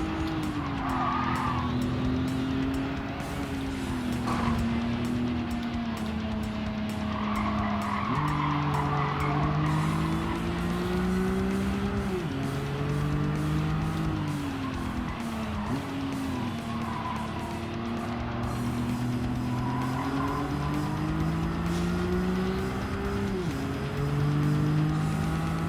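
A race car in Gran Turismo 7 drives continuously with a steady engine whine that rises and falls through gear changes, while tires squeal and skid repeatedly in the corners, loud and close throughout with no talking.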